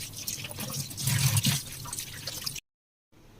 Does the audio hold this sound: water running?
yes